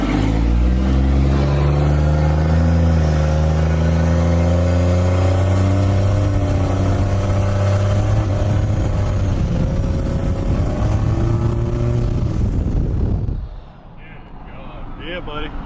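A truck swapped to a 6.7 Cummins diesel pulls away on a test drive, its loud, close engine droning and climbing for several seconds before cutting off abruptly, with people talking over it.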